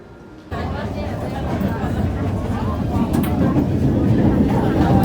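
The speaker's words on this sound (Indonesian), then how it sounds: "Ini dari airport kami naik kereta cepat MRT." Singapore MRT metro train departing Changi Airport, a steady rumbling rail drone that swells after a sudden onset and grows louder over a few seconds.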